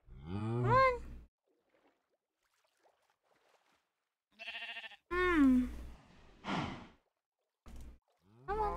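Minecraft cow mooing, heard as several drawn-out, tonal low calls spread across the clip with quiet gaps between, fairly close and loud, alongside other game or voice sounds.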